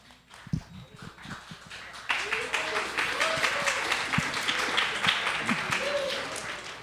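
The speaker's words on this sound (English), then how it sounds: "And then I just stared at all of you to be like, yeah, we're going to clap." A room of listeners at an Astronomy on Tap evening in San Antonio breaks into applause at the close of the event. A few seconds of talk and scattered noises come first, then dense, steady clapping with voices faintly underneath.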